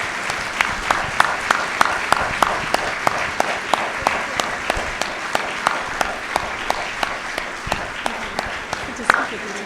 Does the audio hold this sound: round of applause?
yes